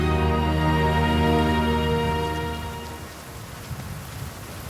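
Heavy rain pours down steadily in the African mountains, a loud dense hiss at first that thins to a softer, scattered patter by the end, with no voices.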